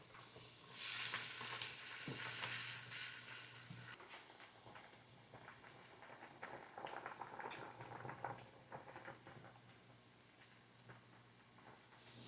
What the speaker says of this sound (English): we'll start slowly sauteing this while I get my tomatoes done